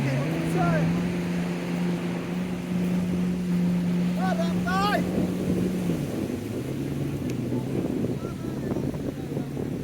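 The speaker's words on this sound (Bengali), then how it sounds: "আছে স্পিড বোট" A speedboat engine droning steadily at a sea beach at Laboni Point, Cox's Bazar, a sustained motor hum that dips partway through, with wind noise and people talking over it.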